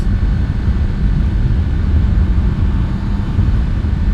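A 2024 Kawasaki ZX10R motorcycle engine holds a steady, loud, low rumble for a few seconds with no clear rises or drops in pitch, mixed with broadband road and wind noise and no voices.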